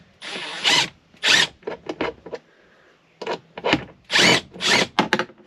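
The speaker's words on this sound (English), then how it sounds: "Use power tools if you have them." A power drill whirs in short bursts, starting and stopping repeatedly, close by, with quiet pauses between each run, while working on the steering wheel tilt of a RAM Promaster van.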